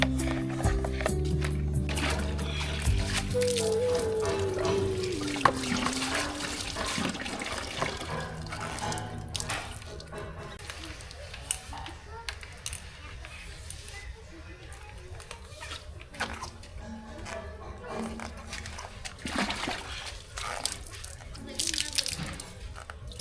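Water spraying and splashing as it rinses the pipe of a bike washing machine, a steady wet rush with drips and spatters running throughout, fairly close, while someone talks over it.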